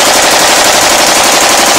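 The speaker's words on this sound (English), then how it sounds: "Nice chest shots, Phil." A machine gun fires a sustained, dense, loud burst at a Las Vegas shooting range, filling the whole moment with no talk.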